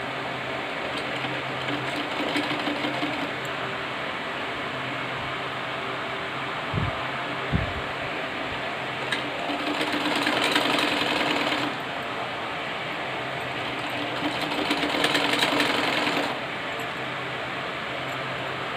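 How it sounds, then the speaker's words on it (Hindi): Sewing machine stitching along a kurti neckline, a steady whirring hum that swells louder in two long bursts with a couple of brief knocks between, close and alone without talk. "इस तरह से रख करके यहाँ से हम सिलाई लगाएंगे।"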